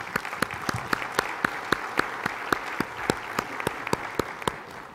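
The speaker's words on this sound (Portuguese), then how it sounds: "lhes pedia, mais uma vez, um grande aplauso." Audience applause at a 2012 Portuguese conference on information technology and the sea: many close, sharp claps in a steady, fairly even patter that lasts the full five seconds, with no talking over it.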